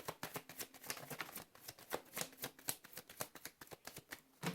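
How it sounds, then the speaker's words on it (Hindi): Tarot cards shuffled by hand, a quick steady rhythm of crisp riffling flicks close up and fairly quiet, continuing without pause. "this is my last shuffle"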